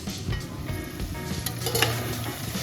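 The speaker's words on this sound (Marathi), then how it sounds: "मटण आपल्याला छान असं परतून घ्यायचं आहे।" Mutton sizzles and fries in hot oil with onions in a pan on high heat, a steady close crackle broken by a few faint clinks and scrapes of stirring.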